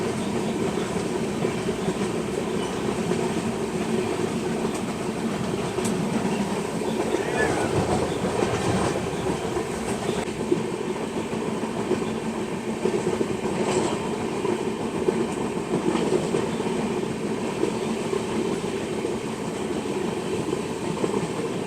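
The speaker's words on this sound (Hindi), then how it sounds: "अपनी ट्रेन निकली है गोरखपुर रेलवे स्टेशन से।" A Gorakhpur to LTT Mumbai express train runs on rails, heard from inside the coach as a loud, steady rumble with faint clickety-clack of wheels throughout, no talking in the foreground.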